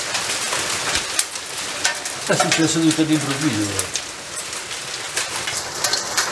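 Hail and heavy rain pelting surfaces during a sudden May thunderstorm in the Rieti area of Lazio, a dense steady patter throughout, with a brief voice speaking in the middle.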